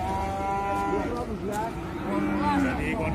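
A tall humped cow with long legs lows near a truck, drawn-out moaning calls rising and falling over a steady background rumble, with people talking close by.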